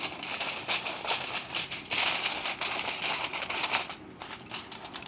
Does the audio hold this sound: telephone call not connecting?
no